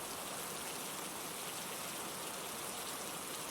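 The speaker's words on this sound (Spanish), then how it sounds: "la lluvia seguía golpeando el techo, como si tamborileara en anticipación al clímax de la historia" Rain from a storm drums on a roof in a soft, even, continuous patter, faint and without voices.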